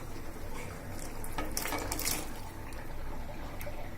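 Cut radish goes into a cooking pot of fried spices with a burst of wet clatter and scraping metal, then settles into a soft, low simmering hiss.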